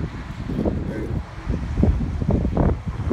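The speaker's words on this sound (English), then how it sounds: "Kinda windy out here." Wind gusting outdoors beside a 2020 Corvette Stingray, rumbling across the microphone in uneven low surges, with a voice speaking briefly.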